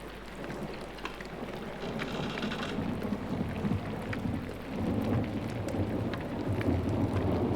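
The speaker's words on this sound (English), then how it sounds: "God, give me the strength to endure the rain." Rain pours and thunder rumbles in the video game Pentiment, a steady downpour hiss over deep rolling thunder that swells midway, continuous and without voices.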